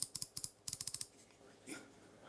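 Hand coffee grinder crunching coffee beans for espresso, heard as a burst of rapid, close ratcheting clicks in quick bursts, then a softer rasp near the end.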